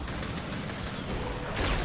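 Rapid automatic gunfire empties a whole magazine in a ranked Gears of War match. The dense, continuous burst of shots runs for under two seconds and swells louder near the end.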